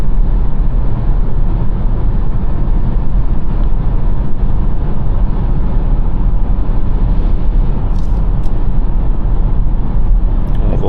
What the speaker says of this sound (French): Il vente un petit peu aujourd'hui, on a un bruit de vent.